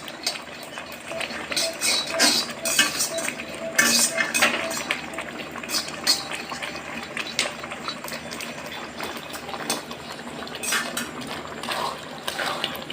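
Peanuts roasting in a pan being stirred while making sweets, steady dry rattling and scraping with clinking ticks of nuts against metal, moderately loud and continuous.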